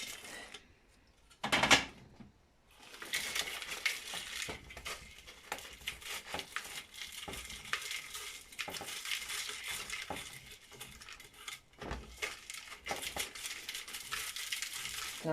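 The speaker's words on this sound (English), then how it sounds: "You can actually hear how crispy they are the sound they're making." Crispy dehydrated onion pieces rustling and crunching up close, a steady dense papery crackle running almost continuously, with a louder burst of shuffling near the start and brief pauses.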